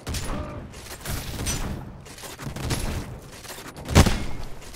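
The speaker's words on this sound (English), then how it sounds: "Oh, he's getting shot by other people." Gunfire in the shooter game Off Planet sounds as rapid bursts and scattered shots that keep going, closing with one louder, sharp report near the end.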